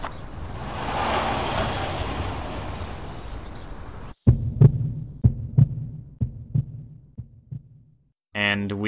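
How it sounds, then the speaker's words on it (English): Creepy heartbeat from the horror video game Nanashi no Game, arriving at Odaka's building: a series of loud, low, thudding beats with irregular spacing, after a stretch of droning ambient hum and before a brief tonal chime. "And we arrive at Odaka's building with creepy heartbeat sound."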